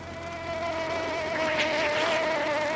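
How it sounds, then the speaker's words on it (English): A large wasp buzzes close by with a steady, droning hum that wavers slightly in pitch as it hovers, heard alone for a few seconds. "That is a wasp. It's enormous."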